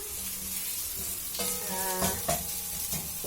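Ginger and garlic frying in a pan with eggplant, a steady close sizzle broken by stirring scrapes and clinks of the utensil.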